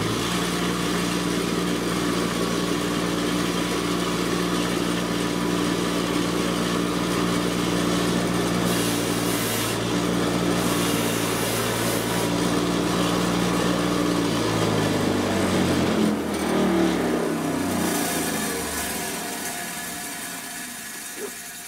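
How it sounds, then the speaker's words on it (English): A power tool fitted with a wire wheel grinds against fabric, giving a loud continuous whine and rasp that holds steady and then winds down toward the end. "Let's go ahead and use the wire wheel"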